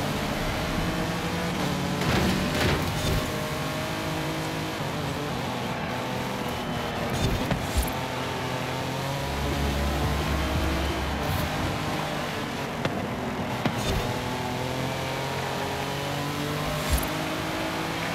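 Racing car in Forza Horizon 5 on an autumn stormy-season festival drive, its engine surging and revving hard through a steady, continuous roar with occasional gear-change peaks, loud and close throughout, with no talk.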